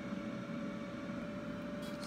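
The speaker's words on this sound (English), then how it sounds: "That noise you hear is the air fryer preheating." Steady mechanical hum of an air fryer preheating in a home kitchen, a constant whir with a fixed tone, moderately loud and unchanging, with no talk over it.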